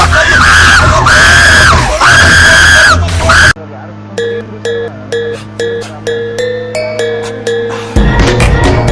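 Loud, harsh screaming from several voices in a chaotic game moment, cut by a stretch of rhythmic electronic beeps before the screaming bursts back in.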